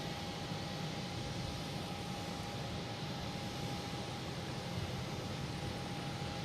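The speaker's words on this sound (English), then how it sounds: "next to arrive, we have a Spirit Airlines at A320" Steady broadband roar of a Spirit Airlines Airbus A320 arriving at Boston Logan International Airport, a constant engine wash with no talk, plus a thin steady tone running underneath.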